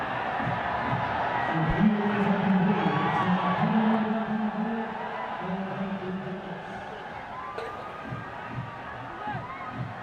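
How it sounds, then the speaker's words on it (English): A cricket crowd at a Janakpur Bolts versus Karnali Yaks match cheers and roars loudly, a dense swell of shouting voices that peaks early and then slowly fades into steady background hubbub. "Plundered around the ground and the crowd were loving every second of it."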